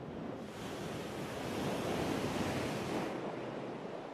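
Surf breaks steadily on Starbuck's reef, a remote Pacific island reef, as a continuous broadband wash that swells in the middle and eases toward the end, with no voices over it.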